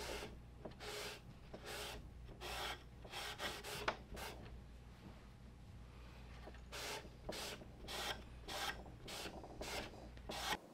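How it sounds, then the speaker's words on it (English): A cloth wipes excess ipe oil off a wooden board in a series of close, rhythmic rubbing strokes with short pauses between them. No voices are heard. "then I'll go back and wipe off the excess"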